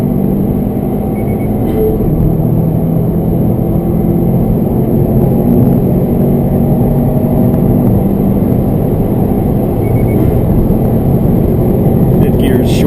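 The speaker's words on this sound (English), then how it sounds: "And the torque that this thing makes, and I know I'm short shifting it, I'm not redlining this." A 2016 Subaru WRX STI accelerating while being short-shifted, heard from inside the cabin as a steady, loud engine drone with road noise under a talking voice for the whole stretch.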